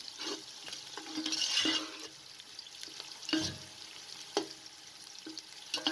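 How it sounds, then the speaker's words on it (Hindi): Whole garam masala and white cumin seeds frying in oil over a medium flame: a steady, close sizzle with a few scraping stirs of a spoon in the pan. "साथ में साबुत गरम मसाला भी शामिल कर दें और 1 टेबलस्पून सफ़ेद ज़ीरा शामिल कर दें।"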